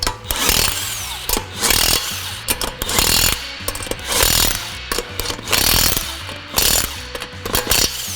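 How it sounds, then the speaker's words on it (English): A battery-powered impact gun rattles in loud, rapid bursts while tightening lug nuts on a car wheel after a front brake job, close up with short pauses between runs. "Another one of the advantages of using a pneumatic air gun or this battery powered one is I don't have to lower the vehicle to tighten it."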